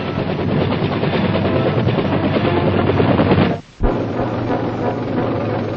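A steady, loud rotor-like thrum of a helicopter fills the air, briefly cutting out for a moment before resuming.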